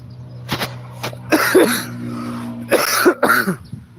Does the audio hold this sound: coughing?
yes